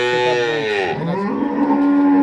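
A single loud, close cow moo at a dairy cattle farm, long and drawn out, dropping in pitch toward the end.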